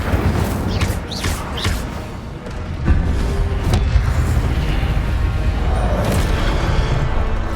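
Incendio fire spell cast in the Hogwarts Legacy video game: a dense, loud roaring whoosh with deep booming rumble, punctuated by a few sharp bursts and thumps that swell into a sustained fiery surge partway through.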